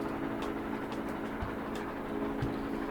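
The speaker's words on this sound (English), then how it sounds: "The train is en route to its destination." Train moving in the video game Persona 5 Tactica: a steady low rumble with a constant tonal hum, and faint periodic clicks over the running sound.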